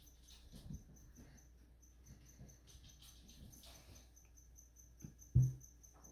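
Faint, high insect chirps repeat in a thin steady pattern over quiet background, with a soft thump near the end.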